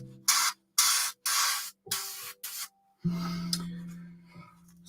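Airbrush spraying paint in several short hissing bursts close up, followed by a quieter continuous hiss with a faint tonal whine.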